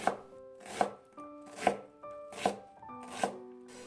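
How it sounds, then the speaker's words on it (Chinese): A knife on a cutting board dicing half an onion that was first sliced into strips, five evenly spaced crisp chops in a slow, regular rhythm, close and clear with no voices. "再改刀切成洋葱丁"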